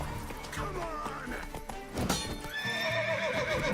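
Rhythmic hoofbeats of a galloping horse in The Witcher 3: Wild Hunt, with a sharp whinny partway through, fairly quiet, with a few crashing effects mixed in.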